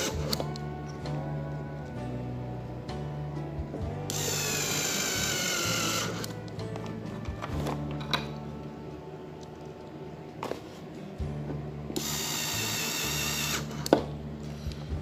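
A JB801 electric screwdriver runs with a steady motor whir and buzz, rising to higher-pitched spinning bursts around the middle and near the end, loud and close with no talking.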